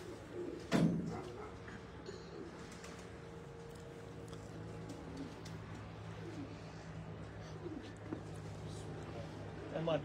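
Pigeons coo steadily from a rooftop loft in Faisalabad, a low soft cooing running through the whole stretch with a brief louder burst near the start, while people talk in the background.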